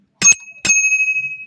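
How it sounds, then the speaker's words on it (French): Two quick rings of a small bicycle bell on the handlebar of a Nakamura E-Summit 940 electric mountain bike, sharp and close, with a bright metallic tone that hangs on and fades slowly. "avec la petite sonnette"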